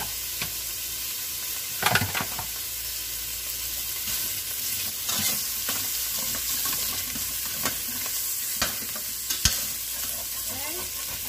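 Beef summer sausage, salchichon, browns and sears in a pot with a constant crackling sizzle, a spoon scraping and stirring through it in scattered louder knocks, close by and without speech.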